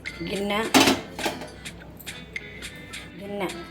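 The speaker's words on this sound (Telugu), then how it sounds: "ఒక గిన్నె పెట్టుకోండి." A bowl is set down in a home kitchen while making junnu, giving a sharp metallic clatter early on, followed by lighter clinks and taps of kitchen utensils, with a voice speaking over the handling.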